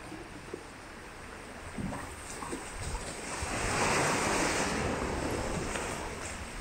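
Waves wash steadily against the shore at Camp de Mar on Mallorca, a continuous rushing surf that swells in the middle, with some wind buffeting the microphone and no talking.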